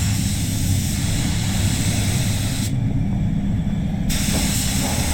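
A Sagola 4600 DVR spray gun sprays clear coat onto a Mazda during a respray, a loud, continuous airy hiss that holds steady throughout with a short dip in brightness partway through.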